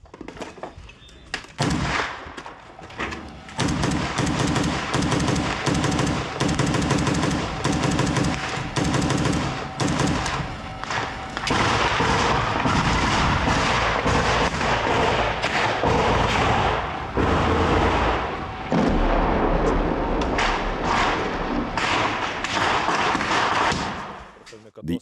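Sustained automatic gunfire lays down covering fire in combat among the ruins of Avdiivka, with dense, loud rapid bursts and heavy thuds filling nearly the whole stretch, and voices faintly heard under the shooting.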